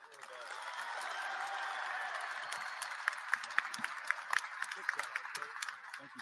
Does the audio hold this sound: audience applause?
yes